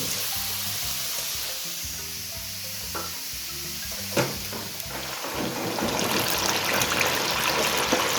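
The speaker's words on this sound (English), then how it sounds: "fry the chicken again for another minute" Crackling sizzle of Korean fried chicken refrying in hot oil, steady throughout with a few sharp clinks and stirring noises, growing a bit louder toward the end.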